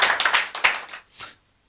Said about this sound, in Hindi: आइए फिर से परमेश्वर को ताली बजाकर हम जो है धन्यवाद।